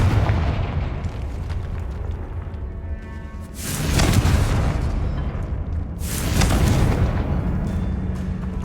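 A Confringo blasting spell from Hogwarts Legacy bursts into loud, booming explosions, two big blasts a couple of seconds apart over a continuous rumbling, crackling din.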